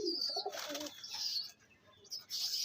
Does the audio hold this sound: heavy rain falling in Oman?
no